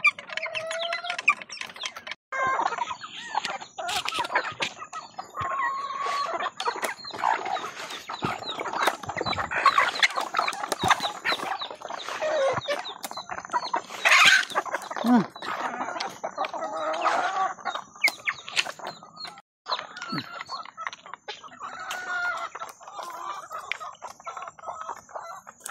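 Backyard Bisaya chickens cluck and call steadily throughout, with a rooster crow rising among them; the birds sound close and fairly loud, with no talking.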